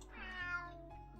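A kitten in the visual novel game Rewrite gives a single soft, short meow, heard alone and fairly quiet.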